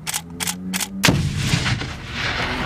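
A live grenade blast during US Marines training: after a few faint taps, one loud, close boom breaks out suddenly and fades slowly into rumbling debris and echo.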